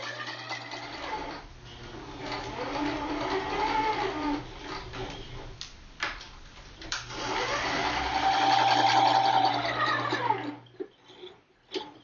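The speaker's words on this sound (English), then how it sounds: "You're going to do a straight stitch for this, forward and back." Sewing machine running a straight stitch forward and back on a cloth face mask, a steady mechanical whir in two long runs with a brief pause between, ending in short bursts.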